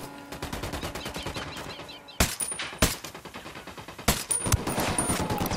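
Rapid automatic gunfire from a tactical shooter game, Ghost Recon Wildlands, rattling in steady bursts, with several louder, sharper shots cracking out over the continuous firing.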